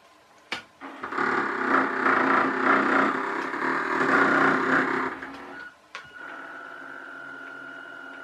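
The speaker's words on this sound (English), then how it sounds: "It's going now, that's just using the right motor." Electric motor of a radio-controlled RNLI lifeboat model, driving only the right motor, whines steadily and fairly loud for about four seconds, cuts out briefly, then resumes as a thinner, steady tone.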